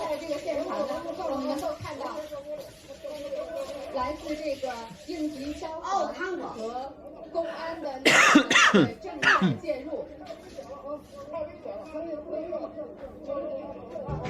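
A couple of sharp coughs burst out over steady crowd chatter and background talk, close and fairly loud.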